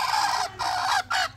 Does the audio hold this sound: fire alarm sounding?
no